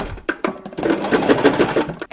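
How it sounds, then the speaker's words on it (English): A sewing machine runs a straight stitch back and forth down the centre of a fabric scrunchie, a quick steady mechanical whirr with small stops and starts, close and alone. "we're just going to sew a straight stitch backwards and forwards down the centre"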